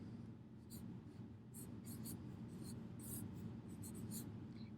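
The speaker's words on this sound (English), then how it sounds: "Let's write our acronym at the top." Pencil or pen writing on paper during division practice: faint, scratchy strokes in short irregular bursts over a low steady background hum.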